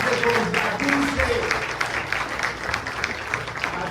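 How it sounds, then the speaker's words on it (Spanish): A congregation breaks into applause during a church sermon, sustained and fairly loud clapping from the crowd, with a voice speaking over it at the start. "Dale un aplauso al Rey de Reyes."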